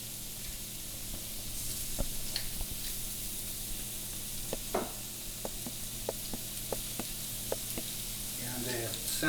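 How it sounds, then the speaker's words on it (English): Shrimp sizzling on a heated Himalayan salt brick, a soft steady hiss with scattered small pops and taps, quiet and close, with faint speech in the background. "you can start seeing them sizzling"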